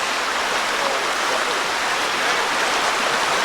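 Steady rushing and splashing of stream water as people wade across a deep stretch of a stream near the Devils Hole ruins, a continuous broadband wash with no talk heard.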